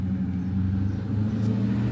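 A Tesla car drives along, a steady low rumble of road and cabin noise heard from inside without any break.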